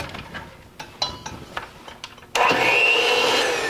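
An electric mixer beating spice cake mix cookie batter with pumpkin starts up after a few light clinks and taps, then holds a loud, steady whir close by.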